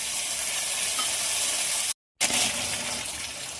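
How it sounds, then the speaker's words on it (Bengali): Chopped tomato hits onions frying in hot oil, giving a steady, loud sizzle and hiss with a short gap partway through. "দিয়ে দেবো কেটে রাখা টমেটো,"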